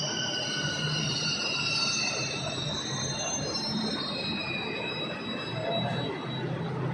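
A Delhi metro train runs steadily from inside the carriage, a continuous rumble and rolling roar with high wheel squeal and hiss over it, moderately loud and unbroken, with no talking.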